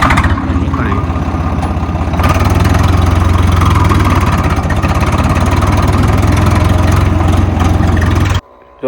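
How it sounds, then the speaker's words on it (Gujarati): Tractor engine running loud and close on a farm after pesticide spraying, a steady throbbing drone that rises slightly a couple of seconds in and cuts off abruptly near the end. "તો હવે આપણે છે ને ટ્રેક્ટર લઈને હવે છે ને નીકળીએ આપણે."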